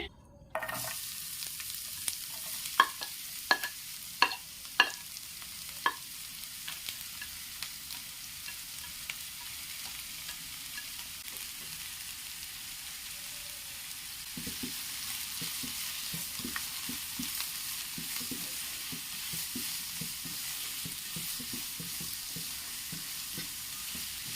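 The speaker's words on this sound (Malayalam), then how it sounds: "നമുക്കതിലേക്ക് നമ്മൾ അരിഞ്ഞു വെച്ചേക്കുന്ന സവാളയും പച്ചമുളക് കരിയാപ്പിലയെല്ലാം ഇട്ട് കൊടുത്തൊന്ന് വഴറ്റിയെടുക്കാം" Chopped onion, green chilli and curry leaves sautéing in coconut oil give a steady sizzle through the whole stretch, with a few sharp spoon knocks early on and then a busier patch of stirring scrapes, close and alone.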